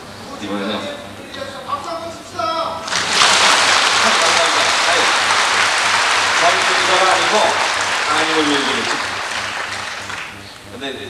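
Audience applause at a church concert of hymns and testimony, a broad sustained wash of clapping that swells after a few seconds, runs steadily for about seven seconds, then fades, with someone talking briefly before it starts.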